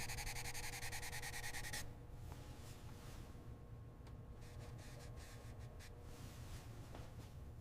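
Sandpaper rubs rust from a 1930 Ford Model A fender, a continuous close abrasive scraping that is loud and dense at first, then drops to a softer steady rasp with faint repeated strokes.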